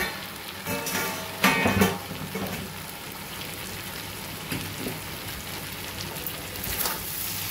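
Vegetables and potatoes fry in a pan, giving a steady, close crackling sizzle with a few louder pops, and no one speaks.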